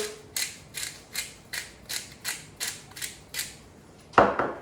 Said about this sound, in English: Some fresh cracked black pepper.